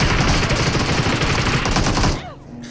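Rapid automatic gunfire in a competitive online shooter match, loud dense bursts of shots close up that stop abruptly near the end, with a voice briefly audible.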